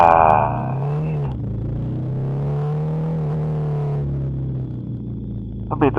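A Kawasaki Z250SL motorcycle that has a cooling problem sets off with a steady, low engine drone. The note holds fairly even for several seconds, with a voice heard briefly at the start.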